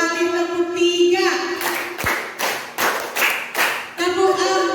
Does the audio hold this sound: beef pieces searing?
no